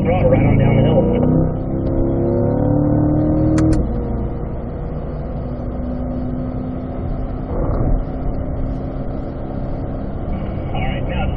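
Car accelerating on the Michelin Ron Fellows driving school track, engine note loud and rising at first, then easing to a steadier lower drone with a brief swell near the end.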